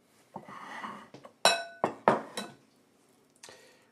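A metal whisk stirs polenta in a cooking pot, making several sharp, separate clinks and scrapes against the pot in a loose, uneven rhythm, close and fairly loud, with quiet pauses between strokes.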